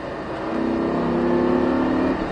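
A race car engine on the Haute Saintonge circuit climbs steadily in pitch as it accelerates hard, a smooth rising whine lasting a couple of seconds with no voices.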